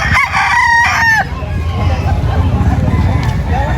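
Texas roosters and bantam chickens crow at an outdoor pet market in Angeles City, with one loud nearby cock-a-doodle-doo opening over a constant hubbub of crowd babble and other fowl.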